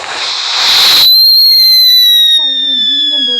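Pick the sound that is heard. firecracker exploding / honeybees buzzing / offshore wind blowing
firecracker exploding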